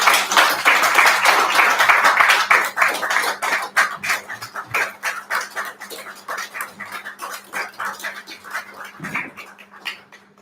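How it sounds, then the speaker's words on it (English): Audience applause at a Wakeup Chennai 300th celebration gathering, dense and loud at first, then thinning into scattered, uneven claps over several seconds. "Big round of applause."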